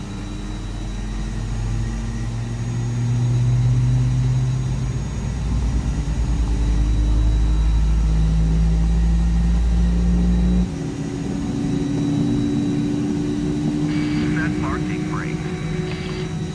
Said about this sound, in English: Start engine 2.